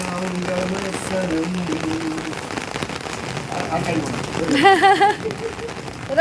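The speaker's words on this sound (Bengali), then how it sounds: "অনেকদিন পরে বৃষ্টি পড়ছে প্রচুর বৃষ্টি পড়ছে" Constant patter of rain on surfaces runs throughout while voices talk and a louder vocal burst rises near the end.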